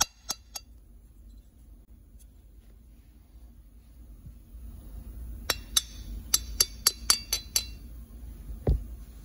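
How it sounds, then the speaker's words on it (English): Metal tapping on a two-stroke engine crankshaft to drive it out of its case, a few isolated clinks, then a quick run of about eight sharp, close taps, ending with a duller knock. "Now we can tap the crank to get it the rest of the way out."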